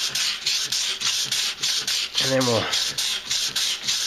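Hand sanding a Dodge and Jeep 4.7L throttle body with 220-grit paper gives steady rhythmic back-and-forth rasping strokes, close and fairly loud, with someone briefly speaking midway.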